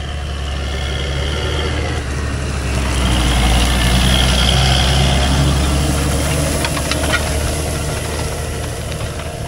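Tractor pulling a roller across a field, a loud continuous diesel engine drone with a slight swell in the middle, no voices.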